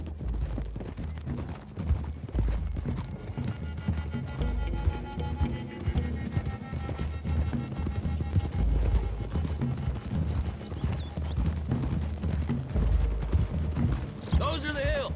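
Horse hooves clip-clop at a gallop in Red Dead Redemption 2, a busy drumming of several horses running together, with voices talking beneath the hoofbeats.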